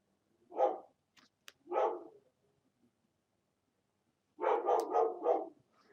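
A dog barks indoors, two separate barks followed after a pause by a quick burst of several, moderately loud with no talk over them.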